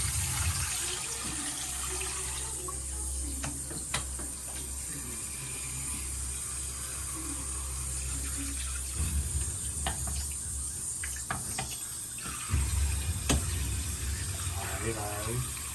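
Tap water running into a pot while rice is rinsed, a steady splashing flow with intermittent clinks and handling noises, and people talking nearby.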